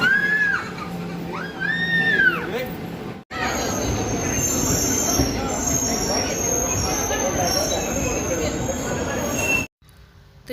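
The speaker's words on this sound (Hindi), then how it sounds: "यही ट्रेन है यही ट्रेन है" A train runs through a station, its wheels squealing in high rising and falling tones at first. A loud, steady rumble of rolling carriages follows, with a high metallic whine and faint chatter from the crowd, before it cuts off.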